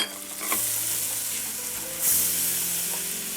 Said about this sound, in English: And just stir that around until the flour looks pretty much gone.